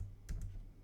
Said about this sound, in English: let's just type in